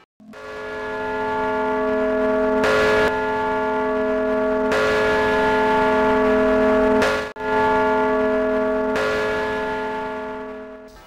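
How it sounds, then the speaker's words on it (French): Church bells of Notre Dame de La Ferté-Macé ring out, the 3917 kg bourdon tuned to A among them, loud sustained tolling with fresh strikes renewing the ringing hum every couple of seconds. "la tour nord, ou tour Saint-Mathieu, abrite le bourdon qui pèse 3917 kg"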